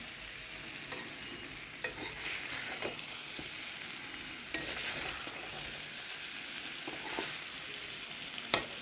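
Mutton frying in ghee is stirred in a pan, giving a soft, steady sizzle. Occasional scrapes and taps of the utensil stand out against the quiet frying.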